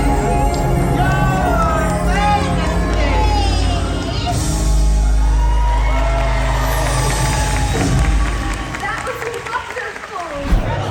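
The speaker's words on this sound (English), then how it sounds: "Let's see if we can beat this crowd to meet Olaf" A dense, loud crowd murmurs steadily at Disney's Hollywood Studios theme park, with many voices, footsteps and general bustle close by while a person talks over it.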